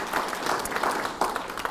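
Brief burst of audience applause for sponsors at an outdoor Chanukah community event in Melbourne, a dense, moderately loud wash of clapping filling the short moment.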